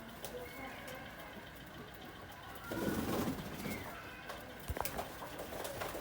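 Pigeons coo softly in a rooftop loft during bath time, low murmuring calls set against steady outdoor background noise, with a few sharper clicks and flutters near the end.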